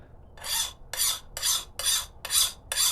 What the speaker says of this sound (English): That file skating across, it's not cutting in.